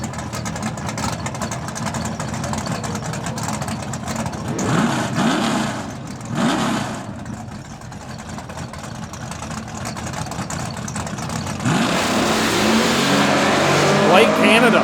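Ford drag race cars, a Mustang and a T-Bird, launching off a drag strip starting line in a 64-car heads-up shootout, loud engine roar building and surging toward the end, with an announcer talking over it.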